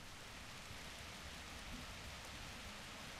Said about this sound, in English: What's the rain effect like?